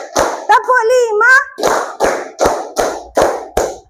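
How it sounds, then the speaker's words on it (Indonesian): Hands clap in a steady counted rhythm, about seven sharp claps spaced evenly, with a voice chanting between them in a classroom setting. "Tepuk 1, tepuk 2, tepuk 3, tepuk 4,"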